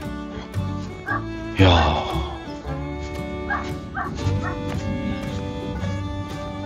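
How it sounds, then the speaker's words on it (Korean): A dog barks repeatedly from somewhere near a rural house with an earthen wall and a walnut tree, with yips and whimpers between the barks while someone talks over it. "강아지가 짖고 있고"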